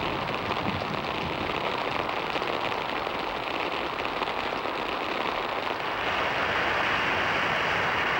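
Steady rain pours down in a dense, unbroken hiss with no gaps or voices, holding an even, moderately loud level throughout.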